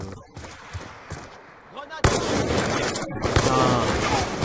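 Gunfire in the video game Black Ops 2 during a domination match: bursts of shots crackle under a voice, growing denser and louder midway through.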